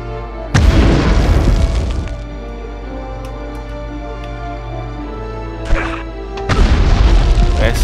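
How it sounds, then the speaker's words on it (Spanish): Grenade explosions in the PS1 game Medal of Honor: a loud booming blast with a rumbling tail, a smaller pop, then another heavy boom, over constant game background hum. "no me salió la precisión del tiro de la granada"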